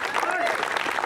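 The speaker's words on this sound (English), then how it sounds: "Big round of applause for them." Brief audience applause at a live evening show, clapping mixed with crowd voices and speech over it.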